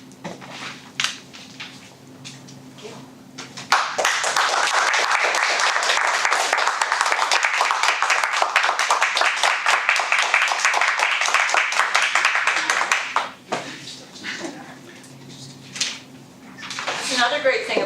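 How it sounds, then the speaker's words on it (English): Sustained audience applause fills a chilly room at a Toastmasters meeting, a dense wall of clapping that rises suddenly, holds steady for about ten seconds, then fades back to quieter room sounds. "when the room's a little brisk, you get to clap a lot and it warms your hands up"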